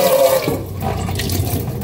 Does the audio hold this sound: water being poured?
yes